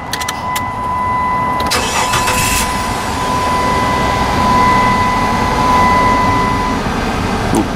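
A 2.7-litre Dodge Intrepid engine cranks and starts after an accessory belt replacement, then settles into a steady idle nearby, with a high whine running through most of it.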